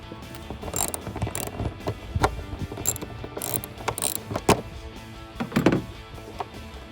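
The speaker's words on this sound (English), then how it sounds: "We're going to begin with removing the 2 10mm bolts from the upper hood catch." Two 10mm bolts being removed from the upper hood catch of a Jeep Wrangler JL, heard as close rapid ratchet clicking with uneven metallic clatter and pauses, no talking.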